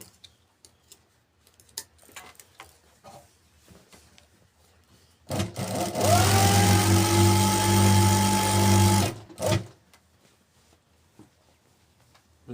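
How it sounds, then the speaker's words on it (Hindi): Sewing machine running in one steady burst of about four seconds while stitching buckram strips for a gent's suit. The motor hum is loud and close, with quiet handling clicks before and after. "सबसे पहले हम 5 पट्टी के बुकरम के ऊपर साइड वाला सिलाई लगा लेंगे।"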